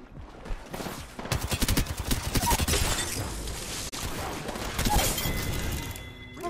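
Video game gunfire, with rapid bursts of automatic shots and sharp shattering impacts coming in dense volleys, loud and up close, with a short lull partway through before more firing.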